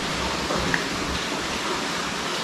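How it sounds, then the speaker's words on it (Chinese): Rainwater from a downpour outside leaks into a small room, heard as a steady, even hiss of running water at moderate level throughout, with no talking. "看到在房间里面都漏了很多的水"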